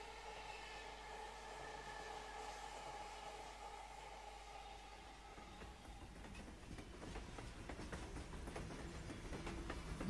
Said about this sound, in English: Man, I'm taking a long train ride.